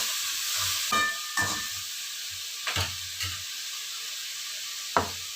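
Chopped tomatoes and onions sizzling in a pan, a close steady hiss broken by a few separate scraping stirs spaced seconds apart, with no speech.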